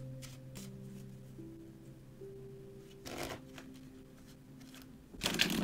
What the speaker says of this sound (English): I'm just shuffling these cards up.